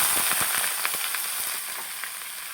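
Garlic, onion and ginger sauté in oil in a pan, cooked to golden brown for a gizzard pares dish. A steady close sizzle with scattered crackling pops runs throughout, with no voices.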